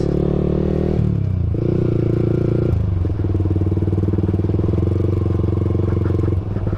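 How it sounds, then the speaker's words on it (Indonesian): A Yamaha R15 V4 sport motorcycle engine drones loudly and steadily up close, its pitch stepping up through gear changes as the bike accelerates. "pakai motor kesayangan gue yaitu R15 V4 guys"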